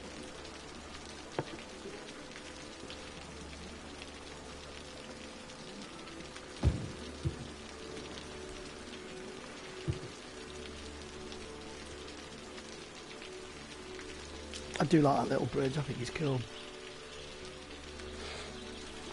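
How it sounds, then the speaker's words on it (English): Steady rain falls throughout in the game Cities: Skylines, a constant soft patter under brief speech and a few interface clicks and tones. "It hasn't stopped raining for a long time now in the game"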